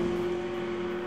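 A McLaren 650S with a 7-speed dual-clutch gearbox cruises along, its engine giving a steady, even drone with a constant low hum and no revving or gear changes.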